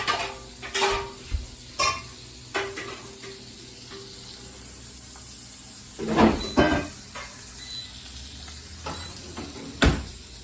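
Potatoes fry in oil with a faint steady sizzle beneath scattered clanks and knocks of pans and utensils, a few louder bangs near the middle and end, no talking.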